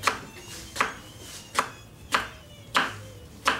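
A knife chops through okra pods on a cutting board in a home kitchen, six distinct, evenly spaced cuts landing about every two-thirds of a second, close and crisp, with no talking.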